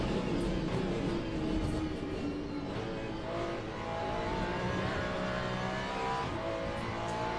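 A race car engine in Le Mans Ultimate, in an LMGT3 race with a Ferrari and a Mustang, droning loud and steady at high revs with slight pitch shifts, close and continuous.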